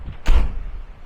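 Sliding balcony door of a cruise ship cabin on the Carnival Paradise opening, a single short rumbling slide with a dull thud near the start, loud and close in a quiet room.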